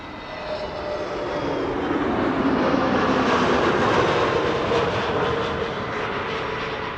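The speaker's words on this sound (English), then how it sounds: "This is KM Malta, flight 394, an A320neo, left from Malta 2 hours and 57 minutes ago." An Air Malta Airbus A320neo airliner arrives at Amsterdam Schiphol Airport, its steady broadband jet roar swelling toward the middle and easing off again, loud and continuous with no voices.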